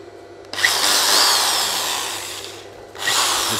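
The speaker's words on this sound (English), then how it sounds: "This is a 300 watt drill." A 300-watt electric drill whirs steadily at high speed for a few seconds, briefly stops, then spins up again, close and loud.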